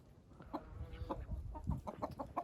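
Chickens cluck in a village yard where ducks are kept, a run of short, quiet, irregular clucks and calls from nearby birds with no talking.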